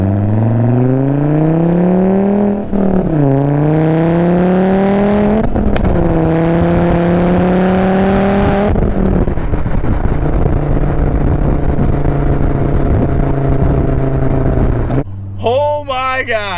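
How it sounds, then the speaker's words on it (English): Custom exhaust on a Volvo V70R revs hard in rising, sustained blasts, the engine note climbing and falling through several pulls before settling to a steady drone, loud and close, with excited voices cutting in near the end. "some glorious exhaust notes"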